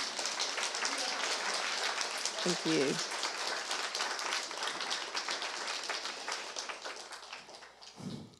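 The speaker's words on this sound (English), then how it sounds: "Let's give them a round of applause." Applause at a literary translation panel at the World Voices Festival, a broad steady wash of clapping from a seated audience that slowly fades, with brief speech heard partway through and near the end.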